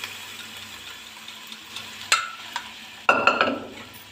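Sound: cooked urad dal added to spinach and stirred in pan

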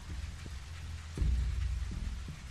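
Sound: rain falling in The Walking Dead 400 Days video game

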